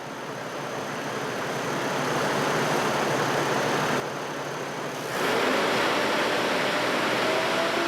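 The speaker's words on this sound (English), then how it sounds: "Go ahead and rev this thing up a little bit." A Chevrolet Trailblazer with a 4.2 litre inline-six, weak on power with a suspected clogged exhaust, hums at a steady hiss-like drone, then revs up to about 2500 RPM partway through and holds there.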